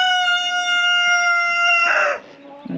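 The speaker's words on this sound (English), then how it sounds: "overshadowed by this rooster in the background" A rooster crows loudly and close by in a garden with raised beds, one long sustained call that breaks off into a rough ending.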